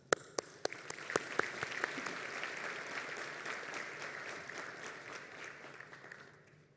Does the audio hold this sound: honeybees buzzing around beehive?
no